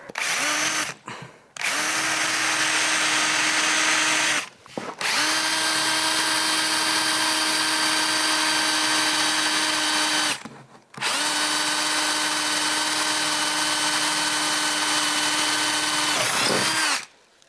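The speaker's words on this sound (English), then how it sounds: "the next thing I'm going to try is see how it goes drilling at an angle" A power drill fitted with a Japanese drill bit bores into wood at an angle, running loud and steady in three long bursts separated by brief stops, with a short final burst at the end.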